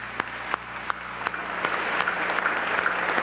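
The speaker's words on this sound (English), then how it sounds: "I think they deserve a very healthy round of applause" A pageant audience gives the stage crew a round of applause, dense clapping that builds and swells over a few seconds, with a few louder distinct claps near the start.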